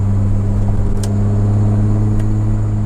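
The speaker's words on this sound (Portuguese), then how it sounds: "o ronco do V6 é muito instigante" A Ford Escort XR3 fitted with a V6 engine, running with a loud, steady, low droning hum and two faint brief clicks.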